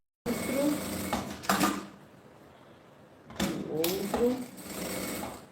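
A sewing machine stitches bag lining fabric in two close bursts of rapid mechanical whirring separated by a pause, with a voice talking over the stitching.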